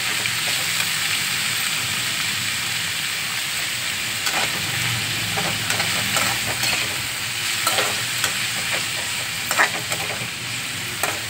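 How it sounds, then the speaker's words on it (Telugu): Spinach frying in oil for jeera palak rice, turned over and over with a spatula: a loud, continuous hissing sizzle with scattered scrapes and clicks against the pan, close up and with no voices. "నూనెలో మొత్తం ఇలా కలుపుకొని పచ్చి వాసన పోయే వరకు మూత పెట్టకుండా కొంచెం ఇలా గోలనివ్వాలి"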